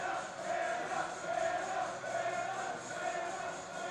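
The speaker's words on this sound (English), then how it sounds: "They're chanting something." Hockey crowd in the stands at a Colorado versus Utah game, a steady roar of many voices chanting together in a large arena, loud and continuous throughout with a rhythmic, swelling rise and fall.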